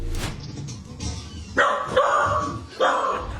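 A dog barks at a television, three or four sharp, fairly close barks with a short whine between them, over faint background sound from the set.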